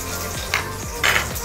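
Frying in ghee in a pan for chicken biryani, a brief steady sizzle with a couple of soft utensil clinks over a low background hum.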